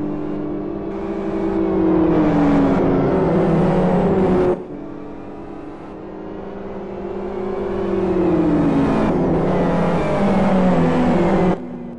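GT1 race cars accelerate hard at a restart, engines roaring loudly and rising in pitch through the gears. There are abrupt shifts and then a second surge of revving.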